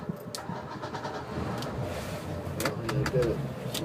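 A Sea Ray 280 boat engine cranks without catching, a low grinding churn heard fairly faint and steady, while birds coo nearby and a voice speaks briefly.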